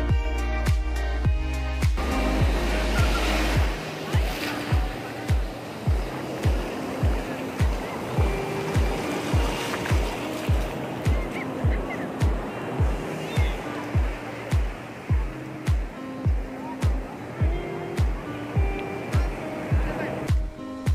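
Ocean surf at Chennai's Marina Beach in the early morning, a broad steady wash of breaking waves with faint rhythmic pulses throughout and a brief low rumble at the start.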